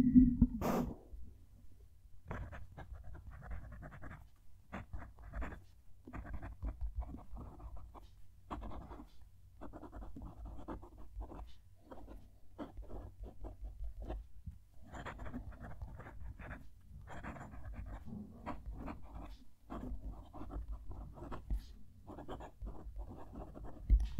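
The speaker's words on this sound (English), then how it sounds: "Let's move the mic down to the page to write a sentence" Fountain pen nib scratching across paper while writing a sentence, a soft continuous stream of short strokes with brief pauses, close and quiet in a calm room.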